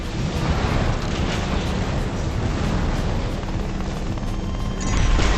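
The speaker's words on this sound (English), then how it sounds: "Is that a helicopter?" A helicopter in the video game Armored Core VI: Fires of Rubicon roars with a dense, continuous rotor thrum and a faint rapid chop, loud and close throughout, with no voices.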